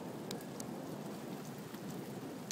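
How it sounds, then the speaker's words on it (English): Heavy rain pours down during a thunderstorm, a dense, steady hiss of drops on surfaces, faint and distant-sounding, continuous with no voices. "Look at how much it's pouring."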